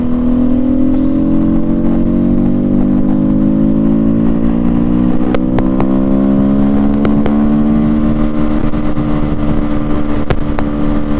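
SWM RS300R motorcycle engine revving close by, a steady idle whose pitch climbs slowly and holds, with a few sharp clicks near the end, no voices.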